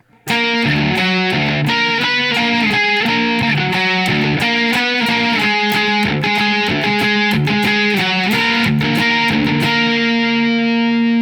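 A heavily distorted electric guitar plays a steady, loud run of octave chords with a driving rhythm, played alone.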